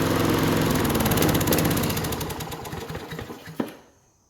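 A rescued farm lawn mower engine runs loud and rough with a steady rattling drone, then is shut off and sputters to a stop with a final clunk, leaving near silence.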